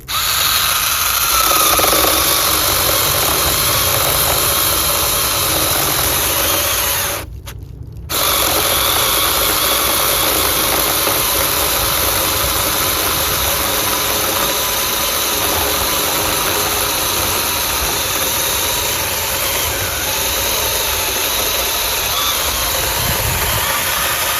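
A small battery-powered handheld mini chainsaw's electric motor whines at a high, steady pitch close by, running continuously with one brief drop and a quick return to full speed.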